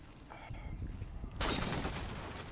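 Gunfire in a Halo 2v2 match, a sudden loud burst of rapid shots breaking in after a short quieter stretch, close and sustained to the end.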